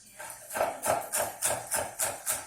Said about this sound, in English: I'm slicing each little stalk into 3 pieces